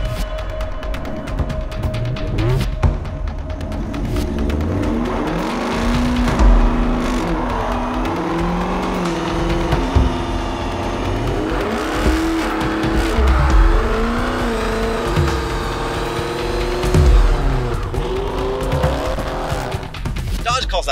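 A 2021 Dodge Charger Hellcat Redeye with 797 horsepower does a burnout, its engine roaring steadily while the tires squeal continuously over about twenty seconds, loud and close.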